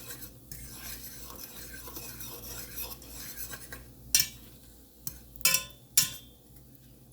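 A utensil scrapes and stirs chopped Steak-umms and potatoes in a pan, giving a soft continuous sizzle broken by several sharp metallic scrapes near the end, with no talking.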